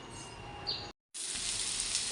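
Potatoes and onions frying in a pan, a steady close sizzle that cuts out briefly and returns louder, with a faint chirp in the background.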